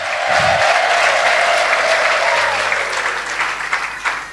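A congregation applauds at a church sermon, a steady wash of many hands clapping that holds loud throughout and thins slightly toward the end.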